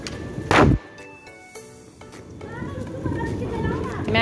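A Diwali bidi bomb firecracker goes off once with a sharp, loud bang near the start, followed by lingering festive background noise and children's voices.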